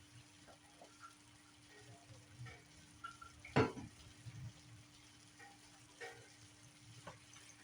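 Ground sloppy joe meat with onion and celery sizzles quietly in a pan, a low steady fry with a few scattered ticks and one louder scrape or stir midway.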